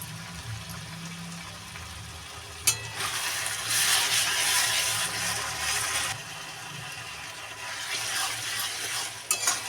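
Prawn heads frying in a pan with green chillies and chopped ginger, stirred steadily: a sustained sizzling hiss that swells in the middle with scraping stirs and a couple of sharp utensil knocks.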